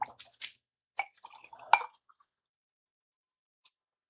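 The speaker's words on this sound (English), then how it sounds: "I gotta fill up the paint water again." Paint water being refilled at a sink, with a few light drips and small clinks of a cup or jar, brief and close, then near silence.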